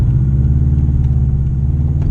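A 2013 Subaru WRX with all-wheel drive accelerates in first gear, its engine giving a loud, continuous low rumble heard from inside the car.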